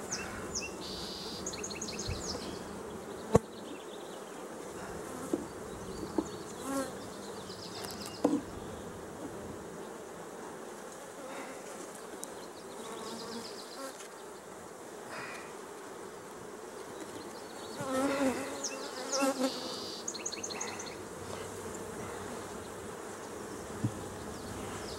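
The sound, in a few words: honey bees buzzing around an open hive brood box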